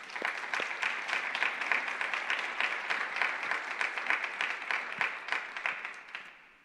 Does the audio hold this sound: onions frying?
no